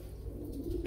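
A golden-eyed pigeon gives a short, low coo, close by over a faint background hum.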